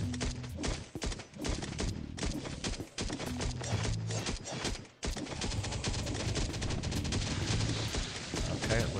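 An automatic turret in the video game Last Day on Earth fires rapid, sustained bursts with brief gaps, layered over game music and effects, fairly faint overall.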